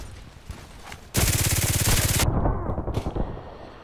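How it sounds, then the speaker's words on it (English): Automatic gunfire in the online shooter Contract Wars: a loud, dense burst of rapid shots lasting about a second, then scattered fainter shots in the background. "Who is shooting at me?"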